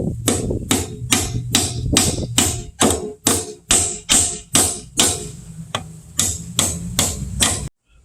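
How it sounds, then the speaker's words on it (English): A hammer drives two nails into a light fixture electrical box with about a dozen sharp, evenly spaced taps, each ringing briefly, loud and close, before stopping abruptly. "We're just going to hammer those in."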